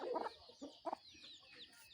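Hens and roosters clucking on a Thai farm, a few short close clucks in bursts over a quiet background, with no talking.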